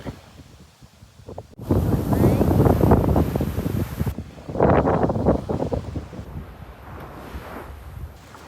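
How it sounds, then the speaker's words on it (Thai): Strong gusting wind buffets the microphone by the sea, with a loud roaring stretch and surging bursts, then easing to a steadier rush. "ลมก็จะแรงนิดนึ"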